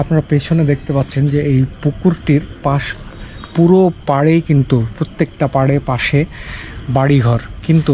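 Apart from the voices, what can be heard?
crickets chirping at night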